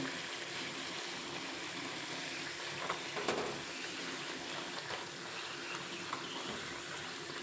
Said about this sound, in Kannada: ಇದಕ್ಕೆ ಉರಿ ಜಾಸ್ತಿ ಇಟ್ಕೊಂಡು ನಾವು ಫ್ರೈ ಮಾಡ್ಕೋಬೇಕು